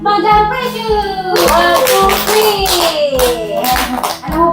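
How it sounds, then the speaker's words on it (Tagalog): At a birthday gathering, people applaud for Madam Precious. A burst of steady clapping rises partway through and carries on under a musical tone and light voices. "Sa palakpak para kay Madam Precious!"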